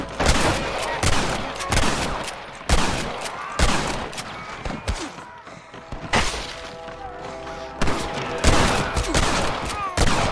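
Gunfire in the Western game Red Dead Redemption rings out in repeated loud bursts of shots and volleys with crashing impacts, a busy firefight running through the whole stretch.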